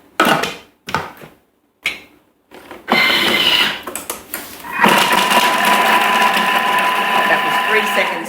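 A Thermomix chops a shallot in a loud, close whirring burst that follows a few short clunks and knocks, running steadily to the end, with a voice speaking briefly early on.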